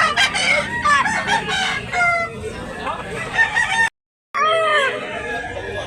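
Several roosters crow and cluck at a busy chicken market in Tabunok, Talisay, Cebu, overlapping calls filling the air nearby with a brief dropout partway; voices mingle faintly in the din.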